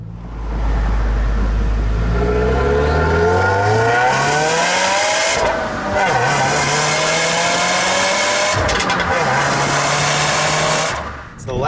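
A 2015 Subaru WRX on its stock exhaust revs up repeatedly, the engine note climbing in pitch in long sweeping pulls, dropping back and rising again, loud and close with a throaty tone.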